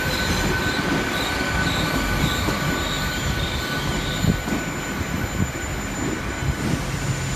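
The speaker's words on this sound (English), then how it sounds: "Got the double pacer going out as well, guys, to Exmouth." A double Pacer diesel unit pulls out of Exeter St David's toward Exmouth, a continuous rumble with squealing wheels holding steady and close throughout, with no talking.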